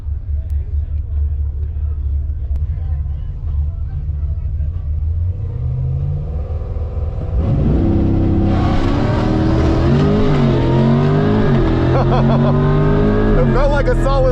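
A Corvette C8 E-Ray sits on a low rumble, then launches hard for a 0-60 mph run. The engine note surges loudly, and the pitch sweeps upward through several quick gear changes, heard up close from inside the car.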